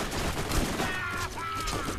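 Rapid, dense gunfire from a turret in the Borderlands video game rattles continuously for two seconds, loud and sustained with sharp bursts layered over a steady roar.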